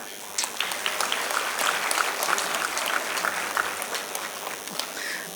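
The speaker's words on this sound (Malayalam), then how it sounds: "കയ്യടി പോരാ." Audience applause after a classical dance performance at a Vishu community celebration: a sustained, dense crowd of hand claps from many people, steady and fairly loud throughout.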